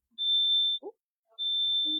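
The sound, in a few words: oven beeping, not the fire alarm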